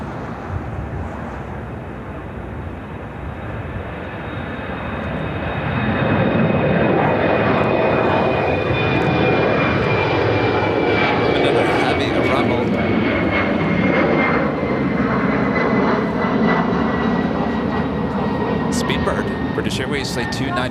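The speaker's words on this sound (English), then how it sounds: "Flight 295 coming in from London Heathrow, 777-200ER" A Boeing 777-200ER jet airliner arriving at Chicago O'Hare from London Heathrow, its engine roar swelling after a few seconds and then holding loud and steady with a whining tone, while someone talks over it.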